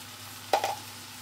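Dried red chillies dropped into hot oil as a tempering for a Kerala-style chicken curry, giving one short, sharp sizzling burst that quickly fades in a quiet kitchen.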